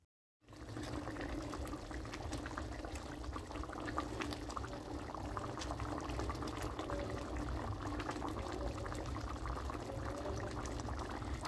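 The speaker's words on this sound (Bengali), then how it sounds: "ফুটন্ত গ্রেভির মধ্যে পিসগুলোকে দিয়ে দিতে হবে" Cabbage pieces simmer in a pot of boiling gravy for a vegetarian cabbage curry, giving a continuous, moderately quiet bubbling and gurgling. The sound stays close and even throughout, with no talk.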